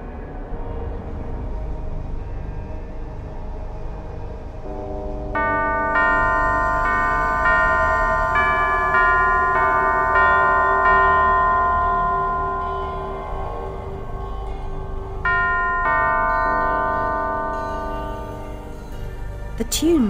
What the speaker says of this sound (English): Only by playing the correct sequence of bells can it be opened.